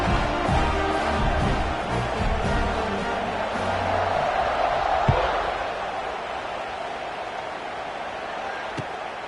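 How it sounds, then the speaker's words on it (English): Football stadium crowd after a score, a dense, steady roar of buzzing voices filling the whole clip, loud and continuous with a couple of sharp thuds near the middle and end. "this crowd is buzzing after that last score"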